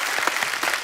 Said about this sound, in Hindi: तालियां और जोर से होनी चाहिए जरा